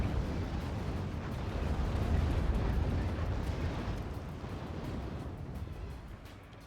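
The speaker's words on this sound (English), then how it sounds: "Dropping some bombs." Bombs dropped and exploding in the real-time strategy game Act of Aggression: a continuous, loud, heavy rumble of blasts that swells and slowly fades across the whole stretch, with no voices.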